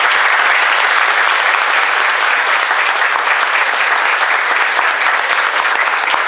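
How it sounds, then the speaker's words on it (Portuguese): A crowd at a spiritist lecture on homosexuality and spiritism breaks into loud, sustained applause, many hands clapping close and dense at an even level without letting up. "uma salva de palmas."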